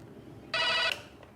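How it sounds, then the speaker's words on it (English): An office telephone at an eye clinic's reception rings once, a short bright electronic trill of about half a second, loud and close over a quiet room with no voices. "that is the phone ringing"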